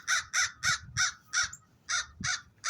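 Crows cawing loudly nearby, a run of eight harsh, evenly spaced calls with short gaps between them.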